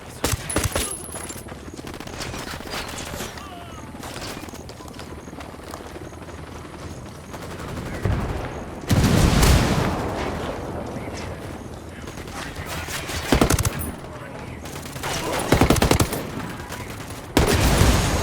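Bursts of automatic gunfire from the video game Ghost Recon: Wildlands, heavy rapid volleys that come in loud clusters with quieter stretches between, across a long firefight.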